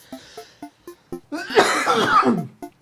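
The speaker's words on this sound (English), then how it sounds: "here and there I'm still coughing" A string of short, dry coughs repeats at a steady pace, then breaks into a longer, harsher coughing fit close by.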